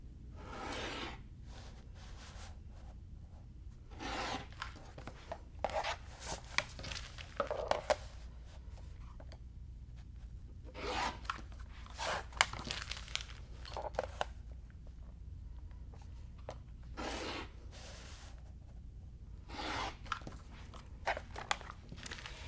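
Quilt fabric pieces for a vintage Nine Patch Star block being cut apart on all four sides, with crisp, separate crunching cuts that come in irregular bursts over a low steady hum.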